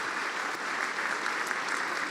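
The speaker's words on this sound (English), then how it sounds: "I think that deserves a huge round of applause right there." An audience bursts into steady, dense applause, many hands clapping together at an even, loud level for a couple of seconds without pause.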